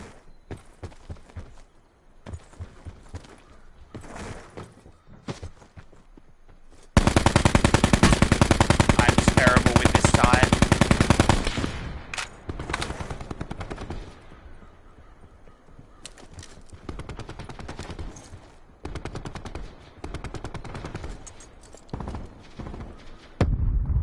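Gunfire in Call of Duty Black Ops 4 Blackout, with scattered shots and short bursts around a loud, sustained stretch of rapid fire in the middle, then tapering back to sporadic, nearer and farther reports.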